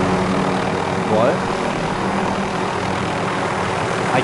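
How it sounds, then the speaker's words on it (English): A helicopter roars loud and constant in a Modern Warfare video game, its engine and rotor drone dominating throughout while voices talk over it. "I can't hear you, this helicopter's so loud."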